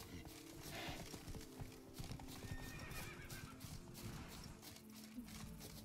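Wild horse in The Witcher 3 game, hooves clip-clopping steadily over ground while the animal neighs and whinnies, close and clear with no talking.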